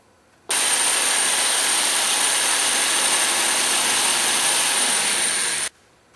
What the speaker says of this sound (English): So let's drill the first hole.